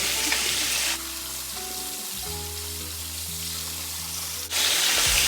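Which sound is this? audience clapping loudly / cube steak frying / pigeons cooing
cube steak frying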